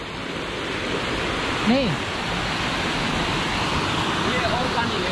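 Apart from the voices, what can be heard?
waterfall, water falling and flowing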